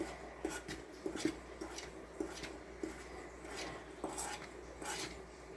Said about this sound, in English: I'm going to mix all that up with a spoon on the dry ingredients